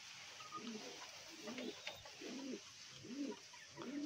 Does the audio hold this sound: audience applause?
no